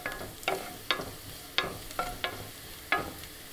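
Ginger and garlic sautéing in a pan over a medium flame, with several sharp stirring scrapes at irregular intervals over a faint steady sizzle, close and fairly quiet.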